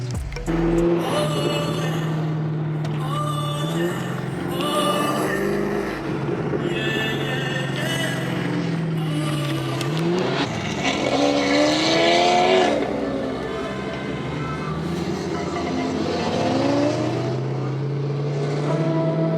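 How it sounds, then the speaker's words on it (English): Several high-revving exotic Italian sports car engines roar and scream past in turn, rising and falling in pitch, loud and close. "we're gonna hear the beautiful symphony of all of these exotic Italian cars"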